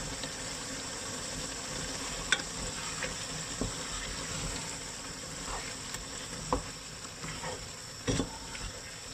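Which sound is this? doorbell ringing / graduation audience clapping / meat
meat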